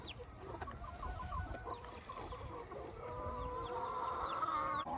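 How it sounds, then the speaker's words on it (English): Roosters and hens cluck and call from several spots in a farmyard with meat chickens, with a faint rooster crow rising near the end over steady outdoor background noise. "He is the nicest rooster we have."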